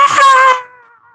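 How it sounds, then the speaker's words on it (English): A recorded scream sound effect, a single loud, high wailing shriek that sustains for about half a second and then trails off into a thin fading tone. "That was a great scream."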